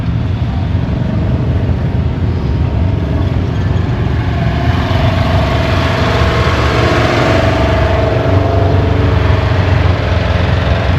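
An old Case model 75 farm machine engine runs at a farm machinery show, a steady loud low rumble with continuous mechanical clatter and no talking.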